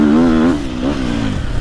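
A Sherco 300 two-stroke enduro motorcycle revs hard close by, a loud buzzing engine note rising and wavering before dropping back to a rougher, lower drone.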